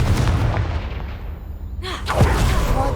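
Confringo fire spell blasting apart a pile blocking a stairwell in the Hogwarts Legacy video game, a loud booming explosion over a continuous rumble, with a sharp burst hitting about two-thirds of the way through.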